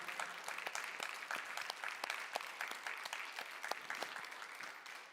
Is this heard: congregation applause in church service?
yes